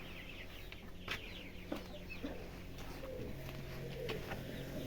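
Chickens, a broody hen with chicks, cluck softly and steadily nearby, with scattered chirps from the chicks over a quiet, continuous background hum.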